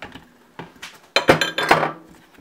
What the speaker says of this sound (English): And you stir it like this